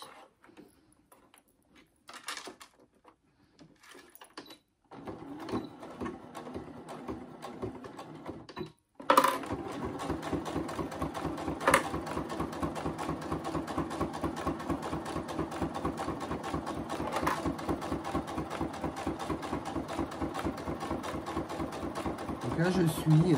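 A sewing machine runs steadily for about fifteen seconds, stitching a second seam over an earlier one while making a fanny pack. The rapid, even needle rhythm carries on close and loud after some quieter handling noises and brief speech at the start.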